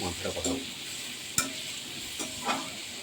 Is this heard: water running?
no